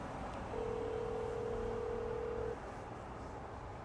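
A telephone being dialed to call someone gives a single steady electronic tone lasting about two seconds, faint and alone against low background noise.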